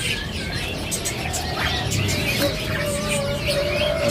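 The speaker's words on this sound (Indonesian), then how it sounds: "Lanjut jalak Bali. Jalak Bali." Bali myna calling among other caged songbirds at a bird market, a clear rising whistle over a dense, loud chorus of chirps and background bustle.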